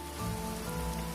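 Steady rain falls in the farming video game Grimshire, a soft, even hiss of drops on surfaces, faint and continuous throughout.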